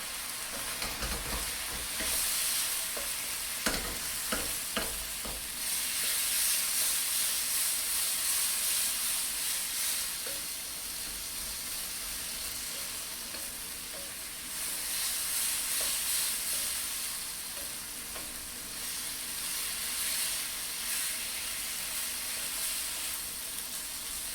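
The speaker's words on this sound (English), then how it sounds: "I'll sweat the garlic and onions real good." Garlic and onions sizzling in a hot pan during a cabbage and chicken stir fry, a steady loud hiss and crackle close up, swelling and easing in waves with a few clinks of stirring early on.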